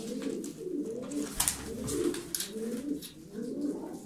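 Tumbler pigeons coo in repeated rolling phrases, close and clear, with a brief sharper rustle partway through and no talk.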